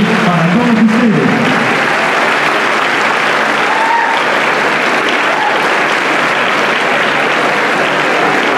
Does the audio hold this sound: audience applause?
yes